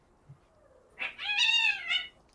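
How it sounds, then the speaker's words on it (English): A pet cat named Tink gives one drawn-out, rising meow after a faint brief noise, heard fairly close and alone in a quiet room. "Sorry, that's the cat I have on board to keep the mice away."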